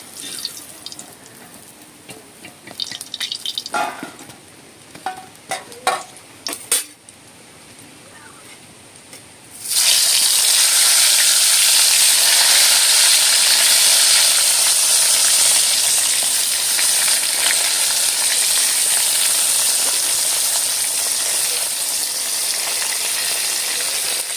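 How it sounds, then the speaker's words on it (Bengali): Eggplant (brinjal) slices drop into hot oil in a pan after some clattering handling, and a loud, steady hiss of frying then rises and continues unbroken to the end. "এবারে বেগুন ভাজবো"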